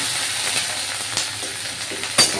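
Onion paste fries in hot oil for a baul fish curry, giving a loud, continuous close sizzle with a few small pops and clicks scattered through it.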